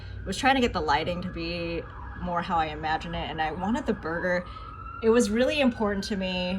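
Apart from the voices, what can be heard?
emergency vehicle sirens outside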